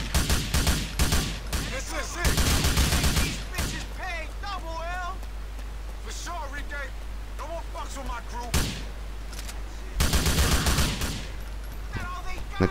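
Gunfire in Grand Theft Auto IV, loud rapid volleys in several bursts separated by quieter stretches where someone talks over the game sounds.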